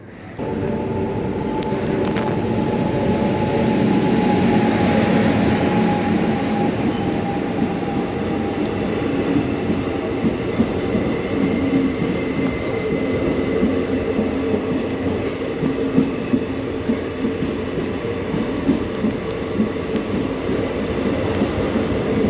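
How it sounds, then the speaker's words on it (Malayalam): A train approaches, rumbling steadily nearby with a low continuous roar, faint metallic rattles and a brief high squeal, no voices. "അവിടുന്ന് ട്രെയിൻ വരുന്നുണ്ട്."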